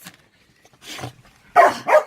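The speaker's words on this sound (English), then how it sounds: "Sorry, not sorry for making your dogs bark." Dogs give a few short barks and yips indoors, faint at first and then two louder close barks near the end, with no talking.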